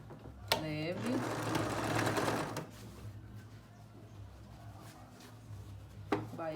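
Sewing machine stitching a child's jacket, a dense steady run of rapid needle clatter for a couple of seconds, then quieter mechanical handling and a brief restart, close and moderately loud.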